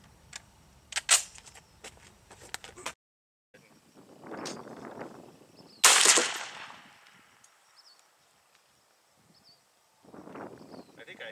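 FN FAL rifle shots at an outdoor range: a few sharp, loud reports spaced seconds apart, each with a trailing echo, separated by quieter gaps.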